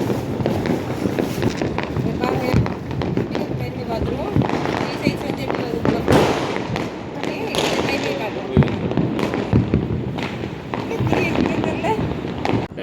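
Diwali firecrackers, including a colourful flower pot going off, crackle and burst in a busy outdoor setting, with repeated sharp pops and hissing over steady background noise while people talk nearby.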